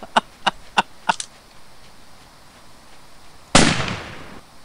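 Shotgun blasts aimed at animals in a hunting video game: several sharp, close reports in quick succession, a pause, then one louder, heavier blast with a short decaying tail, all without talk.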